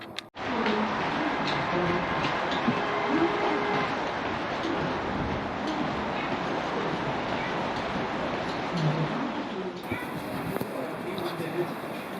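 A GWR battery-powered train converted from ex-London Underground D-stock carriages rumbles steadily at close range in a broad, continuous roar, with a brief shift in tone near the end.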